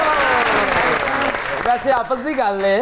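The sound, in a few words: studio audience applause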